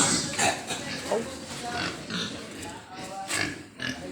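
Pigs and many piglets grunt and oink in short, scattered bursts amid a noisy pen, with talking mixed in throughout.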